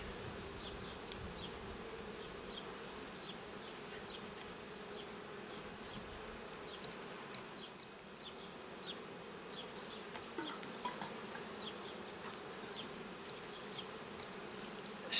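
Honeybees hum steadily in an open Ukrainian-Alpine beehive, a soft, even buzz from a mass of insects close by that holds throughout with small flickers of individual wingbeats and no talking.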